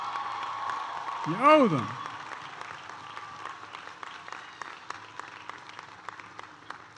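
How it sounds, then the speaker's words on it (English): Graduation crowd in a university stadium applauds parents and grandparents, a broad wash of clapping and scattered cheers at a distance, with a speaker's amplified voice over it and a whoop rising near the start. "Stand up and give your parents and your grandparents and those who got you an applause."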